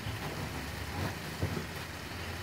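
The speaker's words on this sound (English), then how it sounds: "it's raining really hard too," Heavy rain falls as a steady, dense hiss with a low rumble beneath it, close and continuous, with a few soft knocks partway through and no talking.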